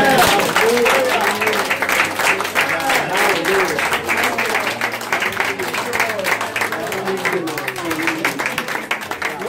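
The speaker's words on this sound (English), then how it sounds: "let's go ahead and just conclude this by just giving just a shout and a clap to the Lord" A church congregation at an office dedication in Glendora, California claps and shouts in praise, dense sustained applause with cheering voices throughout, loud and close.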